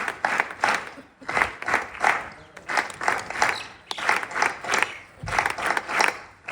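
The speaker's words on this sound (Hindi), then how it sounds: "तालियों की गड़गड़ाहट बजती रहनी चाहिए।" Audience applause greeting the chief guest at a Republic Day 2026 celebration held at Shri Dadhimathi Vedic Gurukul, with steady clapping that swells and dips in several waves and carries on without a break.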